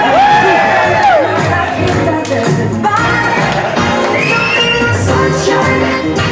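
A lively crowd cheers, whoops and shouts at a ballet talent contest, loud and continuous, with a high sustained voice or tone rising and falling over the din.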